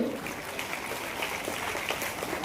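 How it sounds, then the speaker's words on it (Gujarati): Applause at a community award ceremony, a steady wash of many hands clapping at moderate volume, continuous throughout with a faint voice in the background. "તાળીઓનો અવાજ આવે ને તો જ આ કાર્યક્રમ શોભે"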